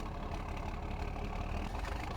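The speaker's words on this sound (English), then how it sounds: "Great sound on that tractor." Tractor engine idling in Farming Simulator 17, a steady, low rumbling drone held evenly and fairly quietly with no talk over it.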